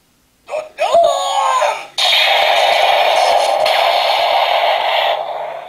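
An electronic toy sound effect from a Kaminari Henkei DX Pteraiden-Oh transforming robot toy plays nearby: warbling rising tones, a brief cutoff, then a long loud buzzing synthetic roar that slowly fades.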